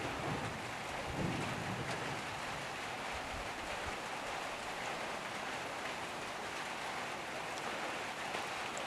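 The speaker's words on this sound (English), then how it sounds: "there's a little rainstorm going on above us" Light rain falls steadily around an outback camp near Alice Springs at dawn, a soft continuous hiss with a faint low rumble of distant thunder early on, with no voices.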